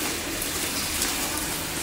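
Rain falls as a steady, dense hiss, evenly loud throughout with no talking.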